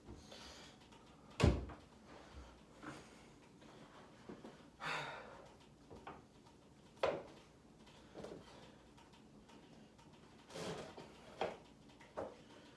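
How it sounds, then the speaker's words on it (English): A door in a room is handled, with a sharp thud near the start and several softer knocks, rattles and movement noises scattered afterwards, plus faint breathing. "Let me close the door,"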